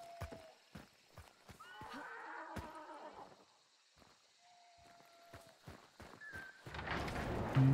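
Horse in a video game whinnying amid clip-clopping hoofbeats, a couple of neighs over repeated sharp hoof clops, with a louder burst of game noise at the end.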